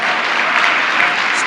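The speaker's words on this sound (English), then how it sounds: "Big round of applause." Audience applause at a women's equality luncheon, a dense steady wash of many hands clapping together at close range, loud and even throughout without any voices.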